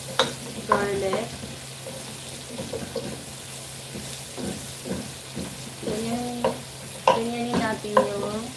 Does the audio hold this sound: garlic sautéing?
yes